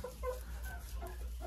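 Hens cluck softly in a chicken coop that houses a Marans hen, a few short scattered clucks over a low steady hum, fairly faint.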